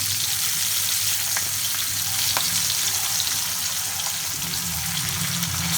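Betho saag greens with slit green chillies and spring onion fry over a lowered flame, giving a steady, close, hissing sizzle throughout, with faint occasional clicks of stirring and no voices.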